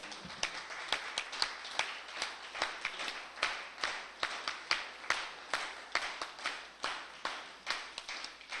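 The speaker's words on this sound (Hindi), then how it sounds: "एक बार मिलकर के वीर ताली से इनका स्वागत करेंगे" Applause from a seated audience at a Vedic bhajan satsang, a dense patter of many hands clapping with steady rhythmic pulses throughout, moderately close, with no talking over it.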